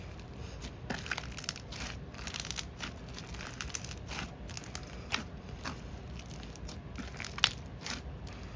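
Crunchy, crackling squishing sounds repeat up close as crunchy slime with small hard beads is pressed and squeezed, with small pops and clicks throughout.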